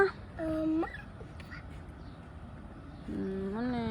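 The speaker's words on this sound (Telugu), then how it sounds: "బర్డ్స్ కమ్ హియర్ మా దా అని పిలు సాన్వి" Brief nasal calls from birds being fed in summer, one short burst early and another toward the end, over quiet background hiss.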